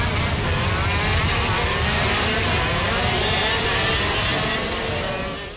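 Karts racing at the WSK Super Master round in Sarno, a dense continuous engine roar held loud and steady throughout, fading slightly at the end, with no talk.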